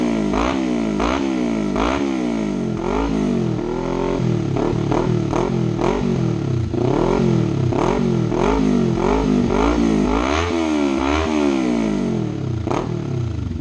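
A Kawasaki Ninja 300 sport motorcycle engine with an unmuffled exhaust revs repeatedly up and down, loud and close, its pitch sweeping in rapid sharp bursts with a crackling exhaust.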